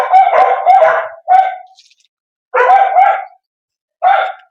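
Dogs barking in short bursts around a cow farm holding HF and Jersey cows, several separate loud, close barks with brief pauses between them.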